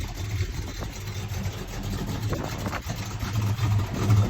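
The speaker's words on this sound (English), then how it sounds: "we're going to be clearing out a 47 Ford right now from the brewery" A 1947 Ford's engine running as the vehicle is moved out of a brewery, a steady low rumble with slight rises in revs, close and continuous without speech.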